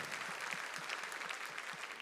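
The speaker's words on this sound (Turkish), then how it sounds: "Ona alkışlar istedim." Applause from an audience at a creative evening honoring Arsen Bekirov, called for a designer and painter seated in the hall; steady, fairly faint clapping continues throughout without a break.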